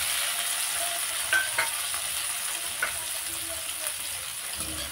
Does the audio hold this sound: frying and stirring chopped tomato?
yes